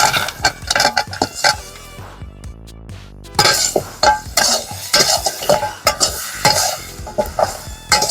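Mutton trotters (paya) drop into a pot and get stirred, with repeated clattering knocks of spoon against metal and a soft sizzle, a brief lull midway, then more vigorous scraping and banging.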